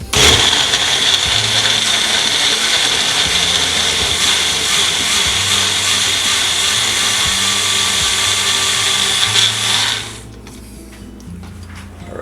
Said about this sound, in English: we're gonna throw it on the magic bullet and let us do its magic